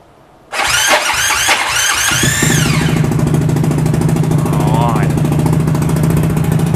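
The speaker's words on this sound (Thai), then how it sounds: "พอสตาร์ทเครื่องหน่อยได้ไหม ได้ครับได ้ฟังเสียงหน่อยฟังเสียงหน่อย 190 CC" A 190 cc automatic motorcycle engine cranks after a half-second pause, catches with a rising rev, then settles into a steady, loud idle close by, with a brief voice heard over it.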